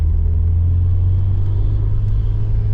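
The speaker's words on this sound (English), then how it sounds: "You can hear the turbo kicking in there." A steady, loud Ford Escort Cosworth turbocharged engine drone with deep rumble, heard from inside the car as it pulls under load through a 5-speed gearbox, turbo kicking in, no talking.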